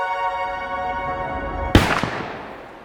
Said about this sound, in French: C'est un coup de feu, et puis un autre.